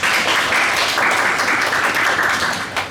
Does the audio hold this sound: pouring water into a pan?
no